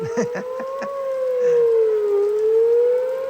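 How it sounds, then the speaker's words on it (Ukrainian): A loud tornado warning siren wails steadily, its tone slowly falling then rising again, with faint rustling and distant clatter in the background, in rain. "сирена, що буде торнадо"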